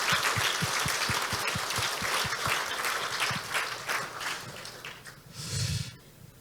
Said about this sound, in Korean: 우리 박수 한번 좀.